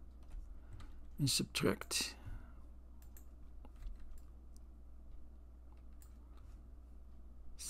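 Mouse clicks and keyboard taps come from working in Figuro 3D modelling software: a quick burst of sharp clicks early on, then sparse faint ticks, with someone talking over a low steady hum.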